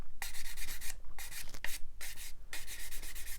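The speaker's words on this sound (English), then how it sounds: "We'll go to the 400 grit stick now" A 400-grit sanding stick rubs across a 1/32 scale Tamiya Vought Corsair model plane in close, loud back-and-forth strokes, several grouped bursts with brief pauses between them.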